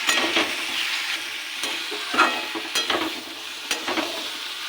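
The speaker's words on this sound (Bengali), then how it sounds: "এটাকে ভালো করে একটু কষিয়ে নেব।" Pumpkin with salt, turmeric, cumin, chilli and coriander powder sautés in a pan for a Bengali pumpkin and chickpea curry, a steady close sizzle broken by repeated scraping stirs of the spoon against the pan.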